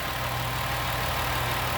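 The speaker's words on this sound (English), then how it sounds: "It's just sitting here idling." A 2004 Ford Escape, its battery draining overnight, idles in a low, steady drone with no revving. The engine is fairly quiet and even throughout, and nobody speaks.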